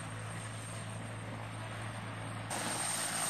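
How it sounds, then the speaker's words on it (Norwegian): Norwegian medevac helicopters keep their engines running during a hot refuel in Afghanistan, giving a steady, loud turbine whine and rotor roar that swells slightly near the end. "Drivstoff fylles med maskinene i gang, en såkalt hot refuel."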